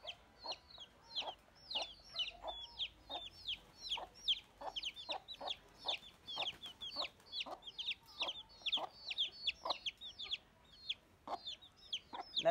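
Colourful fancy-breed chickens cluck in quick, repeated short bursts, fairly quiet and close, keeping up a steady rhythmic chatter with no talking.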